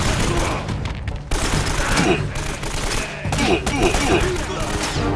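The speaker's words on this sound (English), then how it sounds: "Does that man have a shotgun?" Rapid gunfire bursts from a video game shootout, loud and dense, with brief gaps between volleys and a voice speaking over parts of it.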